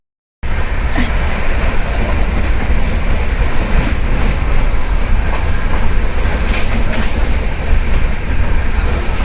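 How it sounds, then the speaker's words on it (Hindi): A train pulls into a station platform, its steady loud rumble and rolling wheel noise filling the whole stretch after an abrupt start, with faint clacking and no voices. "तो फिर ट्रेन आने वाली बस अब ट्रेन की वेट है"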